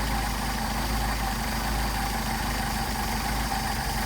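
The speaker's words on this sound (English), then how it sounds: "Now you can hear the engine degrading" A Mercedes 190SL carbureted engine with rebuilt carbs idles steadily and roughly, the idle degrading, a low continuous rumble with slight unevenness, close up and alone without any voices.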